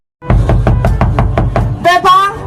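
A fist pounds on a door, about eight loud, close knocks in a quick steady rhythm, then a voice shouts over the end.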